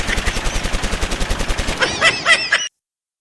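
Rapid burst of gunfire sound effect suggesting indiscriminate firing: a dense, rattling run of shots, then a few sharper ringing cracks before it cuts off abruptly, loud and with no speech over it.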